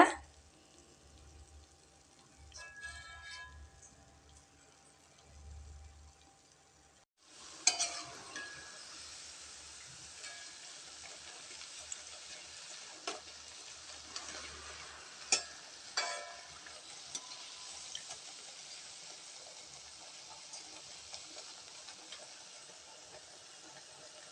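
Coriander (dhaniya) bajji frying in hot oil, a quiet stretch with faint kitchen clatter giving way to a steady, bright sizzle and crackle, marked by a few sharp pops and scrapes near the pan.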